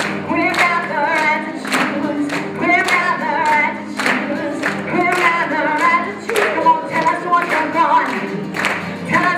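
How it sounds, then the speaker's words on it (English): Audience clapping in rhythm along to a sung chant at a Food Day 2012 event at Prescott College, steady repeated claps under singing voices throughout. "you can clap your hands too"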